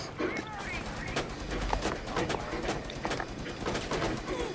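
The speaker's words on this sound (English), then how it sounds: "He's shooting my shield." In Rainbow Six Siege, gunfire strikes a player's shield as a rapid series of sharp cracks and impacts amid game noise, with players talking over it.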